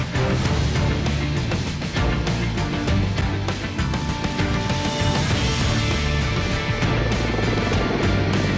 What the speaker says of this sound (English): the ship's crew signal in a Chinook heavy lift helicopter to carry out an underslung operation